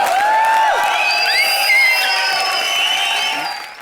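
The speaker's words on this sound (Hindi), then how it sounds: "उसके लिए सीटियां और तालियां बजनी चाहिए" A studio audience at a comedy show cheers after the performers finish, with many overlapping shrill whistles over loud, continuous crowd applause and whooping. The noise is near and sustained, then eases slightly at the end.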